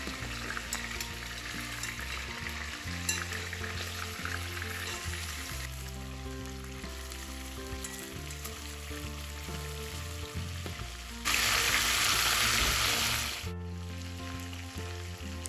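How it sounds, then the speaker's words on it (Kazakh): Chicken legs fry in a hot pan for a chicken pilaf, a continuous crackling sizzle over a steady tonal background, swelling into a louder, hissing burst near the end before dropping back. "барлығын қып-қызыл болғанша екі жағынан әбден қызартып қуырып аламыз"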